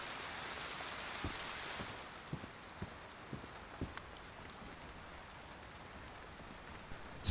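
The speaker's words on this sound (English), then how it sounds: "I can hear outside, like really clear, the rain" Heavy rain pouring outside, heard from indoors as a steady hiss that is louder at first and then softer, with a few faint knocks and a short noise at the end.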